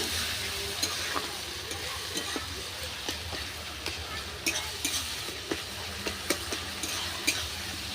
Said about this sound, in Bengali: জিরেটাকেও একটু হালকা করে নেড়ে নেব